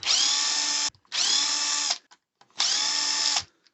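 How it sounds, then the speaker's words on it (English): A cordless power driver spins out small bolts from the wing of an RC car in three loud whirring bursts of about a second each, separated by short pauses. "We need to take a couple bolts out of this wing."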